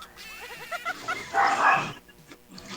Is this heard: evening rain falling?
no